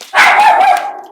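A small schnauzer gives one sharp, loud bark at close range, a short burst with a slightly whiny tail.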